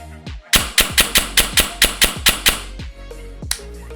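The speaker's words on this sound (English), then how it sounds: "Now I'm gonna do some shooting with the chronograph, so you can see the power as well." An SSR9 DSG semi-automatic air rifle fired through a chronograph: a quick, evenly spaced string of about ten sharp, loud cracks, with a few more isolated shots before and after.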